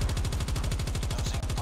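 Rapid automatic fire from the S36 rifle in Call of Duty Mobile, a steady fast rhythm of close, loud shots running unbroken through the burst.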